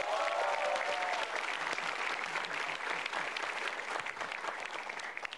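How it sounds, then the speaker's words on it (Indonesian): A studio audience at a televised Indonesian stand-up comedy competition breaks into loud, sustained applause that carries dense and steady for several seconds before easing slightly. "Tepuk tangan."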